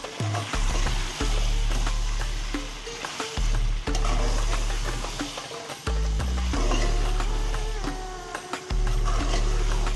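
Chopped onions, ginger and green chillies fry in a pot for a degi chicken stew, with a continuous sizzle and intermittent scraping and stirring, and a low hum underneath.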